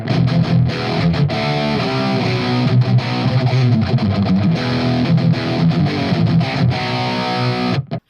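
Heavily distorted electric guitar through a rig, playing chords and riffs, loud and continuous, with a thick saturated tone throughout.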